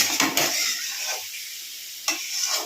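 Chicken kosha cooking in a little oil in a pan, with a close, bright sizzle and a few scraping stirs, rising in short bursts and easing off between them.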